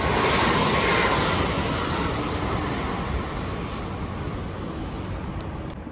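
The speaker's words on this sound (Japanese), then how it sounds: "近鉄電車が来ました。" A Kintetsu train arrives near the line, a broad, steady rumbling roar that is loud at first and eases slightly as it continues, with no voices.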